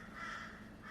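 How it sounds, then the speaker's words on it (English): Crows caw loudly in a steady, sustained call lasting about a second, fairly near and heard on their own with no voices over them. "I'm sorry if you can hear those crows. They are so loud today."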